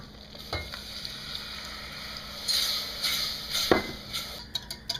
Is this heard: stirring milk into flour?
yes